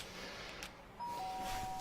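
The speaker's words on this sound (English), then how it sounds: "The sharp sound of the doorbell pierced my sleepy haze and pulled me back to the real world." A two-note doorbell chime from the video game Danganronpa rings out about halfway through, its tones sustained over a steady background hum.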